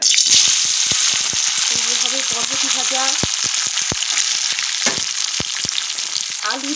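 Green beans (borboti) sizzle loudly in an oiled pan, a dense continuous hiss punctuated by frequent sharp spatula taps and scrapes, with a brief tonal squeak of the pan mid-way.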